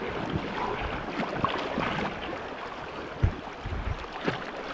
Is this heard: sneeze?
no